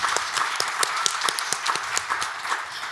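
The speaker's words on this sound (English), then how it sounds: "can we give them a round of applause?" Steady audience applause fills a conference panel session at ETHDenver, a continuous wash of clapping with a few louder nearby claps.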